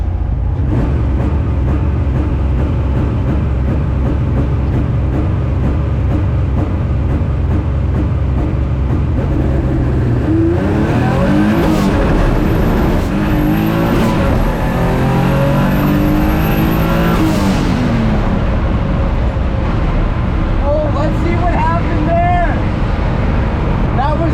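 A Mazda MX-3 engine drones steadily at a drag strip, then revs hard and climbs through several rising gear pulls, loud and close, with a voice talking over it.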